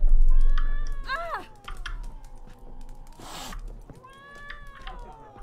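A cat meows in The Witcher 3: Wild Hunt, a few rising and falling cries mixed with game dialogue and background sound effects. A short noisy burst briefly cuts in partway through.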